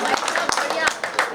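Scattered audience clapping at a Hindi comedy poetry gathering (hasya kavi sammelan), sharp claps popping out under and between a man's ongoing speech, moderately loud and irregular.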